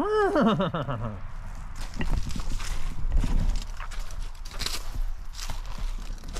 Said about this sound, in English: Oh, I found a horse.